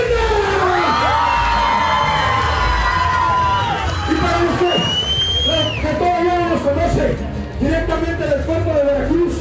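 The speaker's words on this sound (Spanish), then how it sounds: "Un aplauso para Leyenda" Lucha libre crowd at a live wrestling show, cheering, whooping and clapping loudly throughout, with an announcer's amplified voice and scattered shouts riding over the noisy din.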